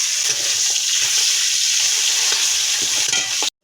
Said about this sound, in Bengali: মাছের মাথাটা ভেজে নিচ্ছি